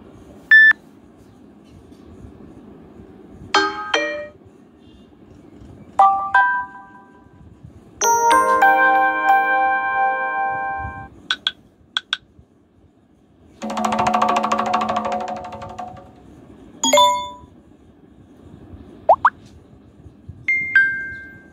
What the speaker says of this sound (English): Now we will see the notifications that are available with us.